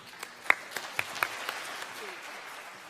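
A thin scattering of individual claps from an audience at a middle school magnet parent information meeting, around eight quiet hand claps that thin out and fade within three seconds.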